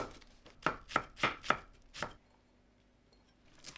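A knife chops on a cutting board while ginger, garlic and a shallot are prepared for a Chinese-style sauce, giving about five quick, close, evenly spaced thuds followed by near silence and then a faint final knock.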